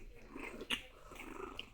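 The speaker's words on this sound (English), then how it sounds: "A little bit of growling." Pug puppies play-fight with soft, small growls and scuffling, close and quiet, with one brief sharper yip-like sound midway.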